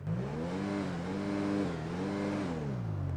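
Engine of the Podium car in GTA 5, a 90s-style 4x4, revving steadily with rising and falling pitch, loud and close with no talk over it.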